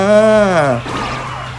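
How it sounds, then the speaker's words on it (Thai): Police car siren in the KartRider: Drift racing video game, a loud rising-and-falling electronic wail lasting under a second before fading into game noise. "อ้าวแล้วนี่อะไรนี่รถตำรวจ"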